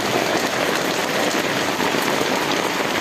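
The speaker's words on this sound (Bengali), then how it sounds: "আমাদের খুলনায় সারাদিন বৃষ্টি" Steady rain pours on surfaces in a Khulna lane, a dense, even hiss of countless drops that stays constant throughout with no voices.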